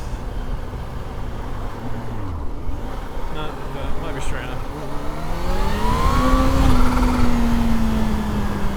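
A scary road-legal motorcycle engine revs at about a quarter throttle, its close, loud drone climbing in pitch and then holding steady as the revs build.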